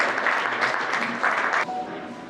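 An audience at a poetry gathering claps to welcome a speaker to the stage, with dense, even applause that carries on for about two seconds and thins out at the end.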